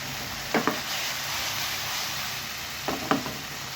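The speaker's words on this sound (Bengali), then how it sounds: "এবার আমি আলুগুলো একটু নেড়ে ছেড়ে দিব" Potatoes frying in hot oil give a constant sizzling hiss, interrupted twice by quick scraping stirs of a utensil against the pan.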